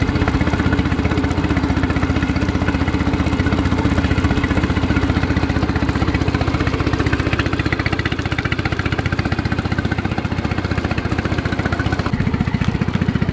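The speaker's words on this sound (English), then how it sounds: "One thing I do notice right away is this engine is actually really quiet." A small outboard motor on a Bote Rover micro skiff idles steadily and fairly quietly, a continuous even hum with a fine rapid pulse that holds without revving for the whole stretch, with no voices over it.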